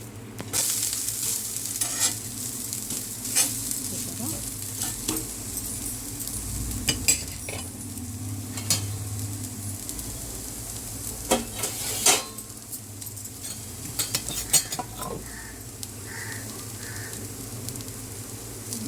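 Ragi rava dosa sizzles softly on a hot pan as it fries, a low steady crackle broken by scattered scrapes and clinks of a spatula and utensils, with no talking.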